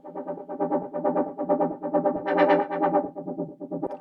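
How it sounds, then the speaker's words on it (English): A distorted synth line in Ableton runs through a low-pass filter modulated by an LFO at 16th notes, giving a fast rhythmic pulsing wobble with a brief brighter swell midway. "when we turn up the LFO amount and turn the rate to like 16th notes, this is what it starts to sound like"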